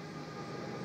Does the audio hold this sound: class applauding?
no